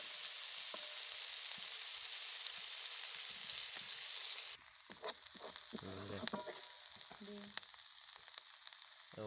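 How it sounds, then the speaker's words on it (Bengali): Onion stalks fry in a pan with a steady, fairly quiet sizzle, and a few brief stirring scrapes come in partway through. "এগুলোকে আমি দুই মিনিটের মতো ভেজে নেব"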